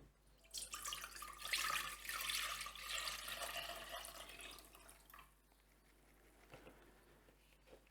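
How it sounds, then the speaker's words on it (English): Strained liquid mixture being poured carefully from a container into a cooking pot, a steady splashing trickle that builds over the first few seconds and then thins to scattered drips and small splashes, close and alone. "Now I will be transferring this into the pot here carefully."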